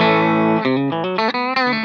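Electric guitar run through a compressor pedal with its blend knob fully down, playing a clean run of sustained single notes and double-stops, close and steady in level with no talking.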